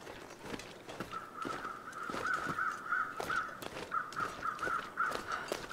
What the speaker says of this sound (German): Sind Krähen, das heißt, da liegt wieder irgendeine Leiche.